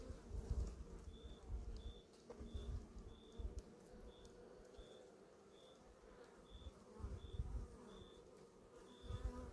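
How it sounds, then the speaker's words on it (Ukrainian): Honey bees buzz in a steady, close drone as they are shaken from hive frames of a nucleus colony being prepared for winter, with faint repeated high chirps and occasional soft rustling bumps. "Ми трушимо всю бджолу трошечки."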